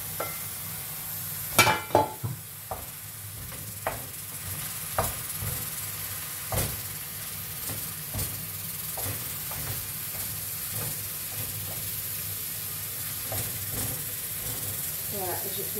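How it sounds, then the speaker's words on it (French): Minced meat hisses and sizzles in a pan with garlic and onion, a constant frying hiss broken by sharp clinks and scrapes of stirring, with a voice talking at times. "je vais mettre ma viande hachée."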